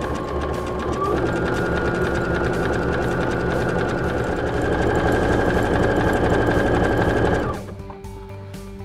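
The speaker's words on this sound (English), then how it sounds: "Let's see how it looks on the machine." A Baby Lock sewing machine stitching with a seven-cord cording foot, its fast, even mechanical whir running loud and steady for about seven seconds before winding down to a stop, with no talking.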